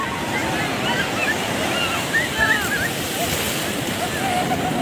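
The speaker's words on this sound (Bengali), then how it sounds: "দীঘার ঢেউ, তারপরে এই সেই পুরীর ঢেউ" Ocean surf breaks and rushes on the beach at Puri, a steady roaring wash with wind buffeting the microphone and faint distant voices in the background.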